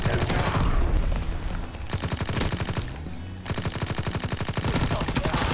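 Rapid automatic gunfire in the video game Call of Duty WWII, loud sustained bursts of fast rhythmic shots with short breaks between volleys, close and dominant.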